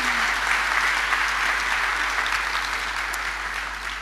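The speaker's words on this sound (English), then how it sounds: "Give yourselves an applause" Graduates and guests at a university graduation ceremony give a long, even round of applause, dense clapping that fades slightly toward the end.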